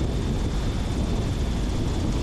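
A small taildragger airplane comes in to land on the grass beside the runway, its propeller engine droning steadily and loudly with a broad rushing roar, no voices heard.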